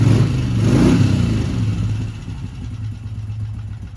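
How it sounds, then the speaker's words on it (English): A 1984 Moto Guzzi 850 Le Mans III square-head engine fitted with K&N pod filters revs up close by, a throaty low growl swelling early and then settling to a steady, slightly quieter idle-like rumble. "You definitely get a little bit more intake noise with that,"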